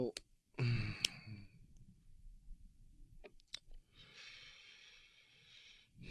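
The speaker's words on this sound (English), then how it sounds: "A lot of heavy breathing today," A man breathes heavily during a tabletop card game, with a loud close sigh or exhale near the start, a few clicks and sniffs, and a softer hissing breath toward the end.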